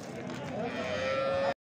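A cow at a livestock market in Vobkent, Bukhara lets out a single long, steady moo close by that stops abruptly.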